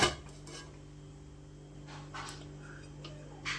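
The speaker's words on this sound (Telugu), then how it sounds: "ఇప్పుడు ఇందులోకి ఒక ప్యాన్ తీసుకుందాం" A pan is taken out in a home kitchen, giving a few light metallic clinks and knocks of cookware against other pots, spaced apart over a low steady hum.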